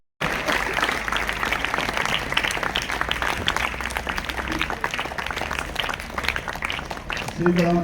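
A college audience applauds at a memorial anniversary function, with sustained, dense clapping from many hands that runs loud and steady for several seconds.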